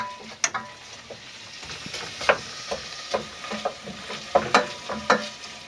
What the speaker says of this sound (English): So just giving this a bit of a stir around on the hob.